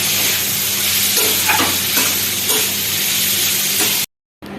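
Vegetable chow mein is stir-fried with boiled noodles, cauliflower, tomato, beans, carrot, peas and nuts. A loud, continuous close-up sizzle with faint stirring scrapes cuts off abruptly near the end.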